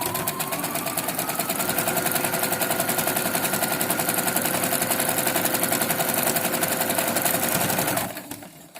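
A sewing machine runs steadily stitching a fabric face mask, a loud, fast, even mechanical chatter held for about eight seconds before stopping abruptly.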